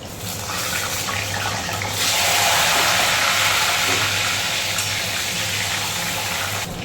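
Potatoes fry in hot oil in a pan, a loud, dense, continuous close-up sizzle that swells after the first couple of seconds and holds steady.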